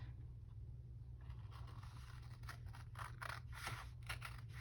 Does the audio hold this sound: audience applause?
no